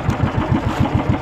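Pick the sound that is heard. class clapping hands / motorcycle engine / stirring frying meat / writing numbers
motorcycle engine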